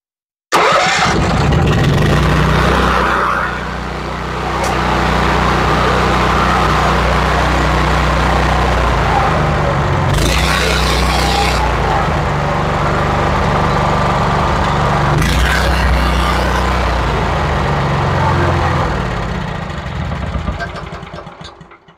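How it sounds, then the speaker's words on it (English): A barn-find Honda GX390 small engine starts up and keeps running at a steady, loud idle. Two brief dips in the roar mark changes in the throttle. "I've got a good GX390 motor."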